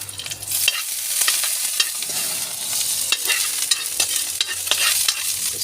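Snails sauté with ginger and garlic under a continuous bright sizzle, broken by frequent scraping stirs of a spatula against the pan, close and steady.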